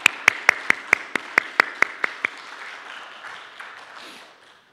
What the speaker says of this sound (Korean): 우리 위로와 격려의 박수를 함께 하도록 하겠습니다